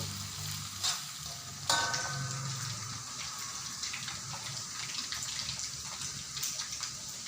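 Ingredients for nasi lemak sambal fry in oil in a pan, a steady close sizzle with occasional sharper crackles and a brief clatter of stirring, no voices.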